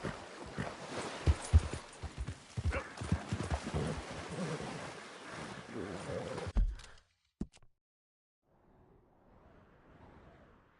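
Horse hooves clip-clop in a steady gallop in Red Dead Redemption 2, loud and rhythmic for about six seconds under a rider's talk, then stopping abruptly, followed by faint low rustling.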